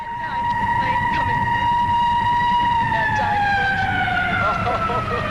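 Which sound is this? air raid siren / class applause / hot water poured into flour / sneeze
air raid siren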